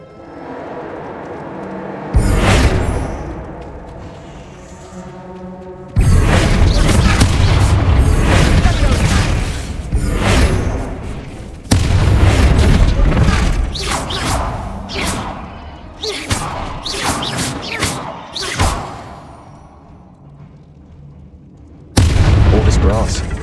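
Bombarda blasting spells explode in the Hogwarts Legacy video game, a series of loud, booming blasts with crashing debris, coming in several bursts separated by quieter stretches.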